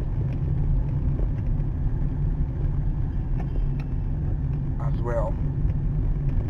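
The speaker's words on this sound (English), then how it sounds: "We're driving just down this road." A car drives down a road in Lagos, with a steady low interior engine and road rumble throughout, while a person talks briefly over it.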